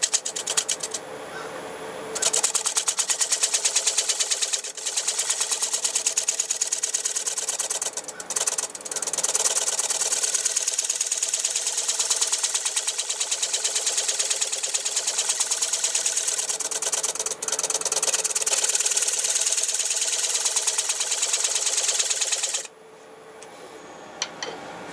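A square cutter with a 10.7 radius on a 3/8 inch square bar takes a light cut on a turning bowl, giving a steady close scraping hiss that runs continuously for about twenty seconds before dropping off.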